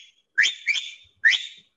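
A person whistles in imitation of a parrot's rising, questioning call, giving three short clear whistled notes in quick succession, close and alone.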